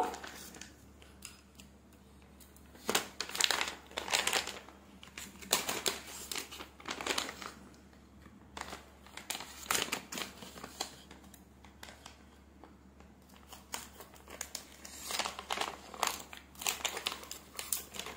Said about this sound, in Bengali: তো এখন আমি এই প্যাকেটটা কেটে নেব।